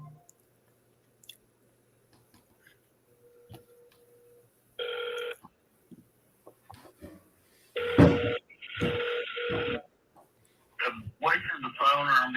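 A telephone rings in a busy sales office, with a short burst followed by a longer run of repeated ring tones that stands out clearly against quiet background noise, and a voice comes in near the end.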